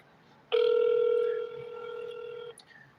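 A single loud electronic telephone tone sounds for about two seconds, then cuts off abruptly.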